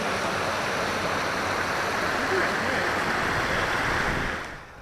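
Strong river flow in the Emigrant Wilderness near Kennedy Meadows, a dense, steady rushing roar that fills the whole span, close and loud, easing slightly at the end, with no voices.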